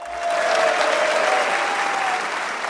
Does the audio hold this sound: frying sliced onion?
no